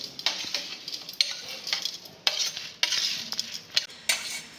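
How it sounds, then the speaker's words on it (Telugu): Roasted toor dal lentils and spices scooped from a pan into a mixer jar, with repeated metal spoon scrapes and clinks in quick irregular bursts, close and fairly loud. "వాటన్నిటిని ఇప్పుడు మిక్సీ జార్లోకి తీసుకుందాం"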